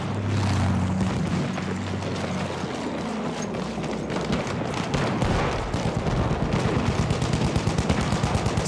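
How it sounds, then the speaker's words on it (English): Sustained machine gun fire in Battlefield 1 on the Ballroom Blitz map, a continuous stream of rapid shots under a dense background of battle noise, growing more distinct toward the end. "Machine gun!"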